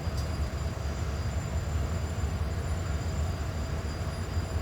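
Diesel locomotives idle and rumble in Florida East Coast Railway's Bowden Yard in Jacksonville, about to start moving: a steady, deep engine drone that holds constant throughout, with no voices.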